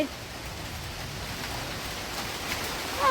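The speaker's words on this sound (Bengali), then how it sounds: "বাইরে এখন বৃষ্টি শুরু হলো" Rain begins falling outdoors with wind blowing, a soft steady hiss that stays fairly faint and even throughout.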